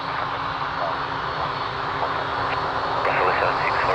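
A jet airliner rolls for takeoff from runway 02 at Lisbon Airport, a broad, steady engine roar with a strengthening hiss toward the end, mixed with ambient noise and faint talk.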